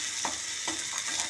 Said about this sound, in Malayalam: ഇനി ഇതൊന്ന് നന്നായി സോട്ടാവട്ടെ